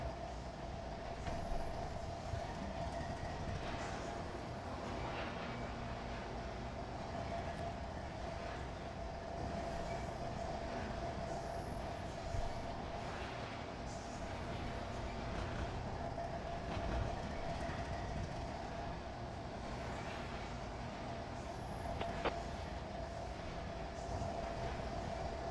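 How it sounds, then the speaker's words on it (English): A train rolls on rails in Trainz, a steady low rumble with a faint sustained tone and occasional soft clicks and squeaks, constant and fairly quiet with no talk. "Alright, Shilling's train's getting created."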